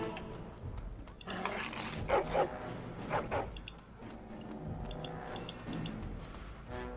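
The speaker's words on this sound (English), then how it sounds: "How crazy is this dog?" A dog barks in the video game Dragon Age: Origins, with several loud, sharp barks over a busy, clattering game soundscape with music and effects.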